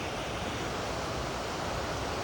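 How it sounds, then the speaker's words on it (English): Small trail waterfall in redwood country near the ocean, a steady broadband rush of falling water heard close and continuous with no talk over it. "Little waterfall."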